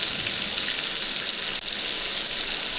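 Ground spices with ginger paste, salt, cumin and coriander frying in oil in a pan while being stirred, a steady bright sizzle up close with a brief scrape midway.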